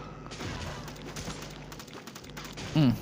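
Gunfire and thuds in the zombie game Dead Ahead: Zombie Warfare, scattered shots and booms at moderate level with a short louder tonal blip near the end.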